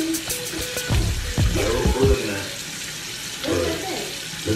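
A kitchen tap runs while water heats up before making banana pudding, a steady broadband splash with a few knocks and clatters from the sink, heard close alongside brief talk.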